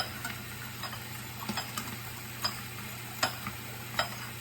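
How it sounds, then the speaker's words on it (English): Sugar being stirred into a sauce leaves a sandy grinding at the bottom of the bowl, heard as a quiet scraping with sharp ticks of the utensil spaced irregularly over a steady low hum. "There's a bit of a sandy grinding sound at the bottom"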